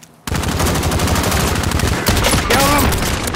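Rapid gunfire in an online shooter game, a loud continuous burst of shots after a brief quiet start, with shouted voices breaking in near the end.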